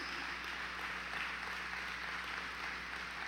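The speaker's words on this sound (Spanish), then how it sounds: "Un aplauso" A crowd claps steadily, a soft, dense patter of many hands that sounds distant and fairly quiet, with no voices over it.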